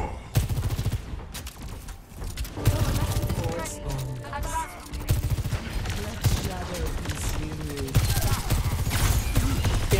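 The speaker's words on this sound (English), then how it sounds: "Someone's asking for a face full of railgun." Rapid railgun fire in an Overwatch-style hero shooter, bursts of shots rattling densely through a busy match with players talking over the action.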